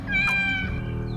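A cat lets out one loud, close, drawn-out meow that rises and then fades, with a faint low hum behind it.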